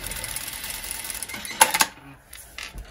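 A home sewing machine runs in a quick burst while stitching a fabric nose-and-mouth face mask, a steady mechanical whirr that stops abruptly, followed by faint handling clicks.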